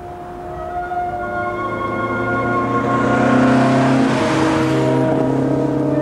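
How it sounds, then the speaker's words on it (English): Classic Austin-Healey and Porsche 356 rally cars race downhill toward Cortina in the Dolomites during the 1989 Pirelli Classic Marathon. A droning engine note grows steadily louder and closer, then holds at full volume. "racing down the hill towards Cortina in hot pursuit of a group of 3 Porsche 356s from Spain"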